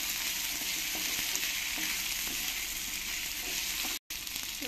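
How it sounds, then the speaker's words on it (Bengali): Potatoes fry with onions and green chillies in a pan, giving a steady, even sizzle with soft stirring, close and constant, broken only by a brief gap near the end and no talking. "এবারে আলুগুলো আমি পেঁয়াজের সঙ্গে ভালো করে একটু ভেজে নেব।"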